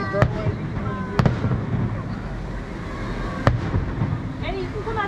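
Fireworks show seen from the Grand Californian Hotel at Disneyland, sharp distant bangs a few seconds apart over wind noise, a low rumble of crowd and music, and people talking nearby.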